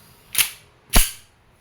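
A KWC M1911 airgun fires two sharp, loud cracks about half a second apart, each one close and isolated against a quiet background.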